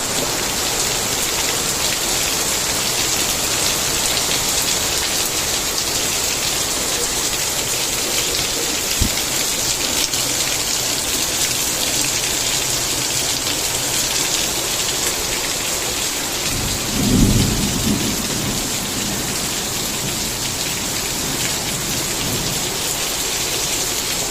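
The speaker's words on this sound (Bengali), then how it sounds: "মুষলধারে বৃষ্টি হচ্ছে" A dense, steady downpour hisses throughout, with a low thunder rumble swelling briefly partway through.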